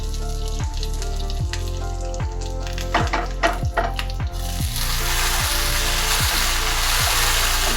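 Fenugreek seeds, two dried red chillies and curry leaves sizzling in hot oil for a mango curry tempering, a loud continuous crackling fry that grows busier and more intense partway through, under a steady repeating low background tone.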